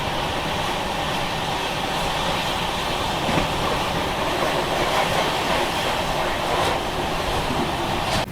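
A Mumbai local train runs on the rails near Thane, a loud continuous rumble and clatter of wheels on track that carries unbroken through the whole stretch.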